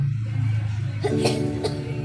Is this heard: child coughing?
yes